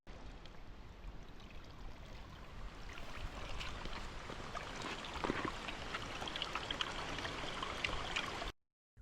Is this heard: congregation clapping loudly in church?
no